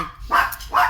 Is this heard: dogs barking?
yes